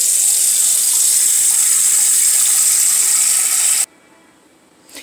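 Tap water pours steadily and loudly into a pot for soup, a continuous close hiss that cuts off abruptly near the end, leaving a quiet room.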